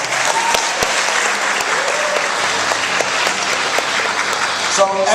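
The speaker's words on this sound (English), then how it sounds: "Give it a round of applause" Audience applause at a club meeting as a new sports kit is shown, a dense, steady burst of clapping from a room full of people, with a faint voice near the end.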